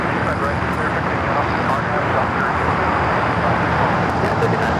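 An airliner rolls for a quick takeoff from runway 25 Right at LAX, a steady, loud broadband jet roar that holds without a break, blended with distant road traffic.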